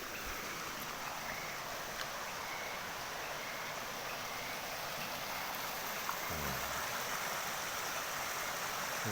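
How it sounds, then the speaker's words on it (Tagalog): A forest stream flows steadily, a soft, constant broadband rush of water running evenly throughout with no voices. "Ito yung sapa nila, oh."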